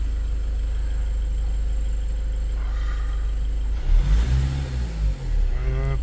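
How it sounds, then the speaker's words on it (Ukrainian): A Volkswagen Passat B8 2.0 TDI diesel engine, with a diesel particulate filter fault P2002, idles steadily, then revs up on its own during a test with rising and falling whines, loud and close, no voices. "Машина починає собі сама газувати, підгазовувати і вимірює"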